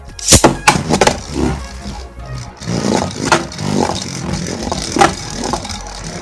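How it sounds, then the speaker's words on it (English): An Ace Dragon Beyblade launched into a vertical drop stadium, sharp clacks and scrapes as the plastic top hits and rides the rails, with a whirring spin between impacts, loud and close. "first I'll just test out Ace Dragon on here to see how well it works"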